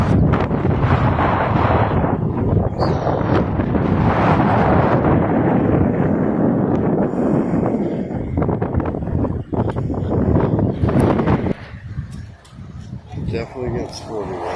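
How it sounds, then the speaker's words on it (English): Strong wind buffeting the microphone at a Florida rocket launch viewing site, a loud, rough roar that gusts and dips, with people talking underneath it. "It's quite windy."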